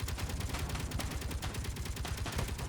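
Rapid, continuous bursts of a Gatling gun turret firing in the video game Space Engineers, a dense rattling stream of shots at moderate level, no talk.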